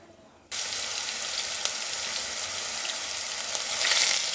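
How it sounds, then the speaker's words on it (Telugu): Ground paste of two medium onions drops into hot oil with cinnamon, cloves and cardamom, and after a brief quiet start it erupts into a loud, dense, steady sizzle that swells near the end. "Onion paste golden brown colour వచ్చేంత వరకు వేయించాలి."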